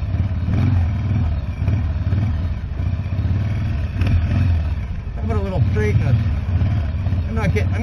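Motorcycle engine revving hard as the rear tire spins on snow at -25C, a steady loud drone with rising pitch sweeps toward the end, while someone talks over it.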